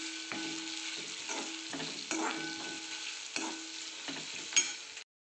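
Guar bean vegetable with grated coconut being stirred in a frying pan, giving a quiet continuous sizzle broken by repeated scraping strokes of a spatula against the pan, with no talking.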